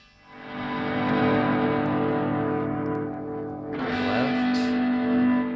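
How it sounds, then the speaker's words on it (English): A distorted electric guitar played through a distortion pedal with a Y adapter feeding both channels of a home power amp: sustained, loud, heavily overdriven chords ringing for several seconds, with a brief change partway through. "I've got my guitar plugged into my distortion pedal, and I've got the Y adapter with the cables plugged into both channels of my power amp"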